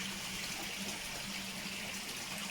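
Water gushing steadily into a koi pond during a large water change, a continuous close splashing rush with no other sounds.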